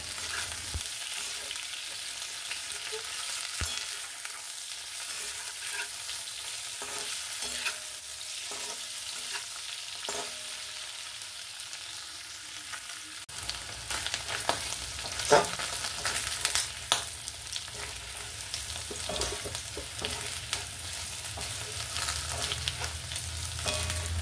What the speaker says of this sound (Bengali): পনিরগুলো হালকা হালকা করে নেড়ে ভাজতে হবে।